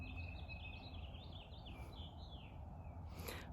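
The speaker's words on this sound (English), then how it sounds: "I hope you guys can hear the birds." Faint birds chirp and trill outdoors in a garden, quick high warbling calls over a low background hum.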